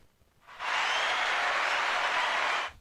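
Applause sound effect from a crowd, a steady wash of clapping that swells in quickly, holds evenly for about two seconds and then cuts off, moderately loud with no voices over it.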